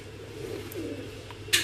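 Neel dumbi breed pigeons at a breeder's loft coo in soft, low murmurs that run steadily throughout, with a brief brighter noise near the end.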